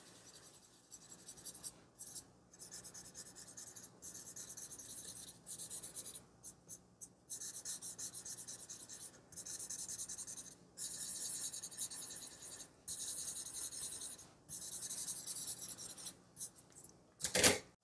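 Graphite pencil shading the white of a drawn eye, heard as soft, close scratchy strokes in bursts of a second or two with brief pauses, steady and quiet throughout.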